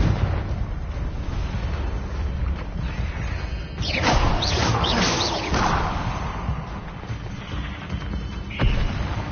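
In the Hogwarts Legacy video game, a spell blast erupts as a loud, crackling whoosh lasting about two seconds over constant rumbling game noise, with a sharper snap near the end.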